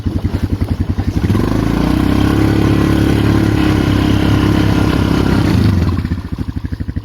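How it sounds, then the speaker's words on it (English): A snowblower running outdoors near a Polaris Magnum 425 ATV: a loud, close small engine with a rapid pulsing idle that rises to a steady high drone for several seconds, then drops back to idle. "snowblower now"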